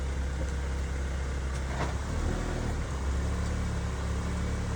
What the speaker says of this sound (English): Take it for a test drive